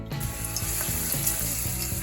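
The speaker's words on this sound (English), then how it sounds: "The gentle frying turns harsh raw garlic into sweet and mellow aromatics" Steady olive oil sizzle and crackle of chopped garlic gently frying, close and continuous, with faint stirring clinks throughout; no voices.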